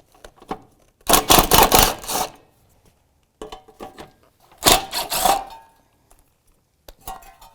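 Ratchet with a 10mm socket backing out radiator bolts on a 2004-2009 Subaru Outback, heard as two loud bursts of rapid metallic clicking, each about a second long, separated by quieter taps and handling noise, with no talking.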